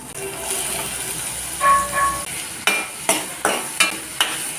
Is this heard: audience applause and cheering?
no